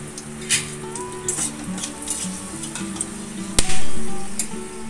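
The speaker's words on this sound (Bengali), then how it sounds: "এবার আমি এতে দিয়ে দেবো শুকনো লঙ্কা আর গোটা গরম মশলা ফোড়ন।" Dried red chillies and whole garam masala sizzle in hot oil, a loud, steady, close crackle with a few sharp clatters from stirring and a faint tonal hum in the background.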